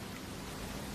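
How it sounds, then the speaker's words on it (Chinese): Rain falls during a spring thunderstorm as a brief, steady, even hiss of drops with no distinct individual hits. "总算打雷下雨了"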